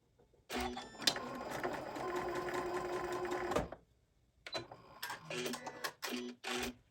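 A sewing machine stitches across a purse in a long steady run, then stops and restarts in several shorter bursts, close and loud with no talking.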